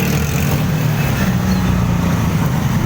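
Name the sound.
road traffic in Baghbanpura bazaar, Lahore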